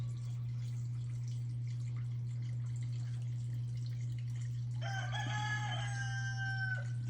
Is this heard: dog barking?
no